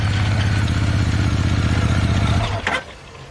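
Zongshen RX6 motorcycle engine idling with a steady low throb, close and loud, then cutting out abruptly near the end with a brief clatter.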